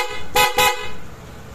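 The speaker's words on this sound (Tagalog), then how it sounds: "Tapos may busina pa to." Two short, loud honks from the horn of an Aprilia SRGT 200 scooter fitted with a custom stainless, powder-coated bracket, sounding in quick succession close by with no talking.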